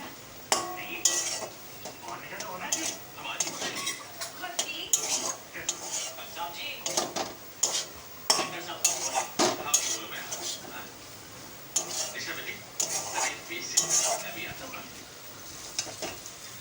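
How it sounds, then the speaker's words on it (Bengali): Small fish frying in a pan, stirred repeatedly with a utensil that clinks and scrapes against the metal in an irregular rhythm over a steady sizzle, close and fairly loud with no talk. "ভালো করে নেড়ে নেব, এটা ভালো করে একটু ভাজা ভাজা করে নেব"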